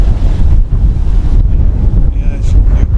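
A breeze on a hill in Brinscall Woods buffets the microphone with loud, gusty low rumbling, dropping briefly in lulls before surging again, with faint higher tones near the end.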